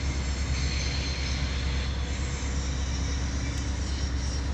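Steady, loud rumble of a train rolling past at a rail yard, a continuous broadband roar with faint squealing wheels, no voices over it.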